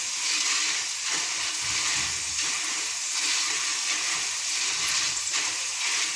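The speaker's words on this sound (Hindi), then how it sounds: "बस एक दो सेकंड के लिए और फ्राई करना" Dal fries in a pan, a loud, dense, continuous hiss and crackle of hot oil close up, with faint stirring and no talking.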